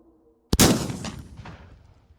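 A flare gun fired in the VR shooting game H3VR: a single sharp, loud report after a brief quiet, followed by a whooshing, fading burn that tails off over about a second and a half.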